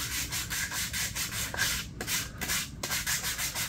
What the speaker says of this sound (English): Give them a scuff up like that.